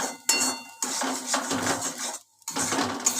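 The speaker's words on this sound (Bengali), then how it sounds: "দেখো, নাড়ছি এখনো, আরও শুকাবে" A utensil scrapes and clinks against a pan while bottle gourd peel is stirred and dry-fried, in irregular bursts with a short pause.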